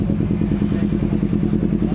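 A Kawasaki Ninja 250 FI motorcycle engine starts and chugs close by in a quick, steady putter of regular pulses.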